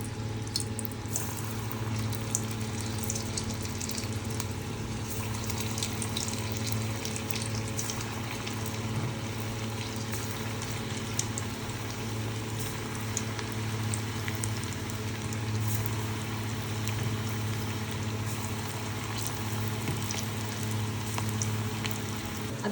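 Small kadhi pakoras frying in hot oil, giving a steady, even crackle and bubbling hiss that runs unbroken for the whole stretch at moderate level, with no voices.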